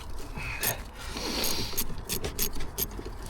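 Ratchet undoing a 10mm battery bolt on a 2016 Ford Transit Connect, close clicking pawl bursts and metallic scrapes in short uneven runs, with no voices.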